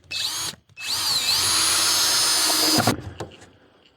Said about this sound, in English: I'm just putting a couple of screws in it to hold it from flopping down.